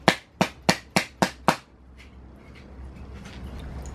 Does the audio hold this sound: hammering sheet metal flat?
yes